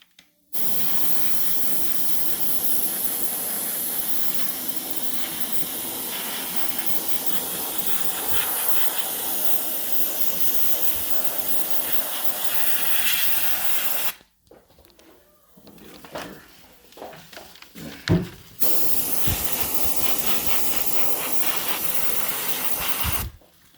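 A steady hiss of spray painting a Super Mario pinball machine part runs for long stretches, breaks off into quiet rustling and clicks, then the broad spray resumes.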